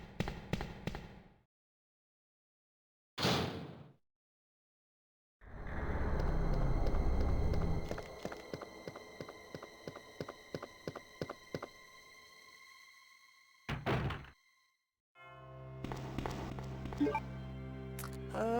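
Game sound effects: a mechanical whir and a heavy rumbling grind as a door slides open, followed by clattering clicks and a final clunk, with no talking.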